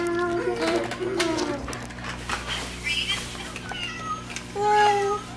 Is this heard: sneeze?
no